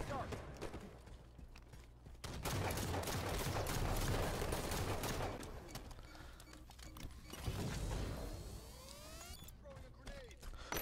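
Rapid bursts of bolt shot weapon fire in the video game Halo 5, dense and continuous with mechanical clatter and a busy game mix underneath.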